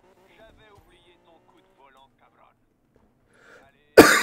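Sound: coughing

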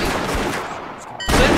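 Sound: gunfire in Roblox Wild West video game

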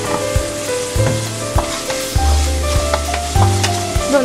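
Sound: sautéing with salt in a pan for spinach thoran

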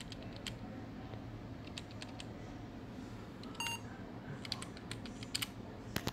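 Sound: typing on a Samsung RV410 laptop keyboard

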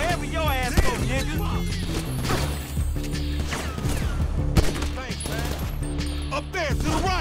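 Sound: gunfire in the video game GTA 5

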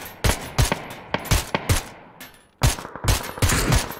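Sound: gunfire in PUBG video game

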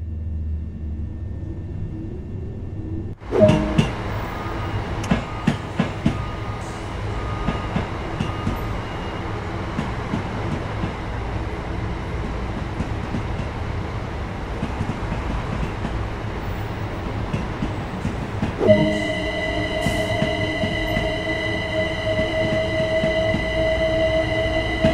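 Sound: electric multiple unit train running, video game

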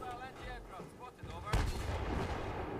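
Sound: tank gunfire in video game Battlefield 3

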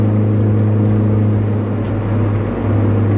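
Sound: Mini Cooper S car driving on a highway

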